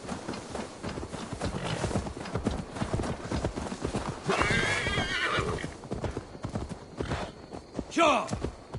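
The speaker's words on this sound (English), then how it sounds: "Now to deliver Magni his horse." Horse hooves clip-clop steadily in Assassin's Creed Valhalla, with a loud neigh near the end. Game voices talk over parts of it.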